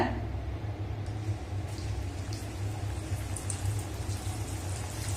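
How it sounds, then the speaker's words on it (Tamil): Cassava vada sizzling in hot oil, a steady low crackling bubble that carries on evenly and close, with faint scattered pops above it and no voices. "இப்போ எண்ணெய் சூடாகிட்டு நம்ம இதில் வந்து பொறிச்சு எடுத்துடலாம் வடையை"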